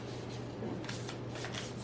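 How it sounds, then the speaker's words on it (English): Cards are shuffled close up in a soft, continuous riffling rustle with a few brighter flicks, over a faint steady hum. "they're really hard to shuffle"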